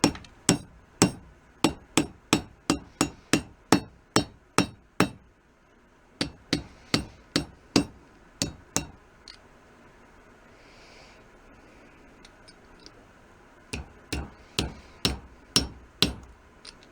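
Sharp metallic hammer blows straightening a Slingerland Super Radio King snare drum throw-off handle in quick, steady series, then a pause with faint rustling, followed by another run of strikes; close and loud.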